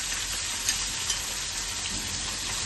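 Pakal fish frying lightly in oil, a steady broadband sizzle that continues evenly throughout, close and fairly loud with no voices.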